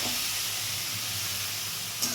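Banana stem curry (thor ghonto) mixed with yogurt fries lightly in a pan, giving a steady, close sizzling hiss with no voices over it.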